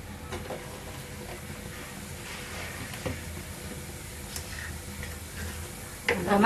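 Fennel seeds sizzling in hot oil in a pan, a soft steady crackle with scattered light ticks and pops, then a louder burst of frying near the end.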